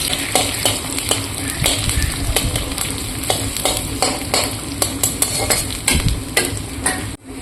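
Onion and dried red chilli fry in a hot pan with a steady, crackling sizzle, broken by regular scraping stirs, then a sudden stop near the end.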